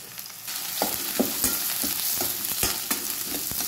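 Curry leaves sautéing in hot oil with onion and green chilli for sweet-bread oggarane, a steady close sizzle broken by regular stirring scrapes of a spoon against the pan, no talking.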